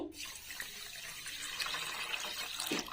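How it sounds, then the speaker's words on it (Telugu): Water pours from a bowl into sugar for syrup while making village-style madatha kaja, a steady splashing trickle for a few seconds, close and fairly quiet, with no talking. "ఇదే గిన్నెతోనే నీళ్ళు పోసుకుందామండి."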